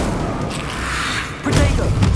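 A Bombarda blasting spell in the Hogwarts Legacy video game lands as a dull, low thump partway through, half buried under steady talking and game noise.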